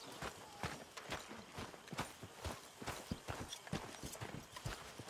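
Horse hooves clip-clop at a steady walking rhythm in Red Dead Redemption 2, distinct close thuds repeating evenly and alone over a faint background.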